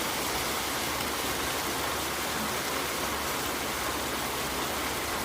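Lote fish (Bombay duck) coated in salt and turmeric sizzles steadily in a pan, a dense, even hiss of frying held at constant loudness from start to finish.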